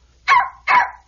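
A dog named George gives two sharp, loud barks in quick succession, close by and alone, with a short gap between them.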